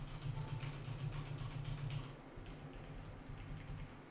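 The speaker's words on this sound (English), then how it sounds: "That is me bashing on the keys. So this is me bashing on my 710." Hard, fast typing on a Logitech 710 mechanical keyboard, a steady run of dense clicks and clacks close to the mic, with a low constant hum underneath that eases off midway.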